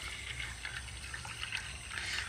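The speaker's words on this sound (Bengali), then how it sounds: "তো এবার আমি এই ওপরের জলটাও আস্তে আস্তে এইভাবে ফেলে দেব" Water being poured slowly off settled cornflour made from raw potatoes, a faint, soft continuous trickle and dribble of liquid heard up close with no talking.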